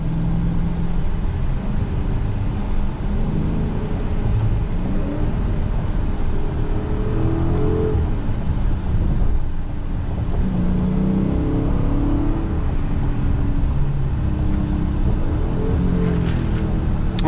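A Dodge Scat Pack widebody (Last Call) at full throttle in fifth gear: a steady, loud engine drone with a deep rumble that holds for the whole stretch, with no clear climb in revs.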